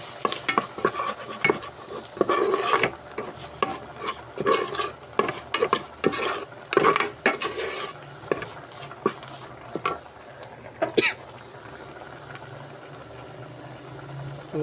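Masala for mutton noodles sautéing in a pan, with repeated sharp scrapes and stirs of a spatula over a steady sizzle, louder in the first ten seconds and then settling to a quieter fry.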